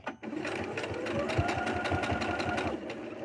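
A sewing machine runs a straight stitch in a fast, even, rapid clatter of needle strokes. It is close and steady for about three seconds, with faint voices in the background.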